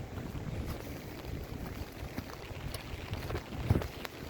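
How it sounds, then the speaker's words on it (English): Blustery wind and rain on a cold outdoor walk, a steady broadband roar buffeting the microphone for the whole stretch with a few louder gusts, no voices heard. "It's just really windy and rainy"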